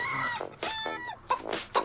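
A chicken in the video game GTA 5 clucks and squawks loudly in quick repeated bursts, close and alone with no talking.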